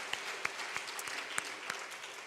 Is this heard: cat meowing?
no